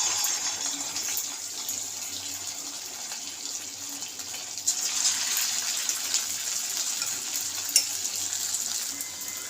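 Chicken pakoras frying in hot white oil give a steady, bright sizzle and crackle. It holds constant throughout with small pops, and no voices can be heard.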